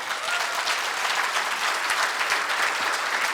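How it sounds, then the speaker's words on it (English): An audience at a community forum in Marin gives a brief, hearty round of applause, a dense, even wash of many hands clapping at full strength for a few seconds. "And if everyone could give a brief but hearty round of applause to Michelle Fideli."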